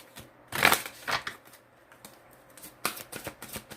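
Tarot cards are handled close up, with quick papery flicks and rustles in short uneven bursts and small quiet gaps between them.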